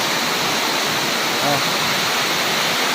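Deep flood water rushes steadily in a neighborhood, a loud continuous broadband roar like a torrent with a faint voice briefly under it.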